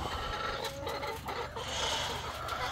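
A hen clucks close by near freshly laid eggs, with soft repeated clucks and murmurs throughout a short stretch and no talking.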